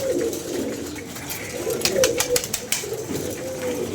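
Loft pigeons give low, soft coos close by, mixed with scattered rustling and scuffling sounds and a few sharp clicks in the middle.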